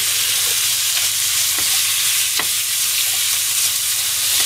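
Maitake mushrooms and bamboo shoots stir-fry in olive oil with a loud, steady, close sizzle and occasional soft stirring clicks, with no talk.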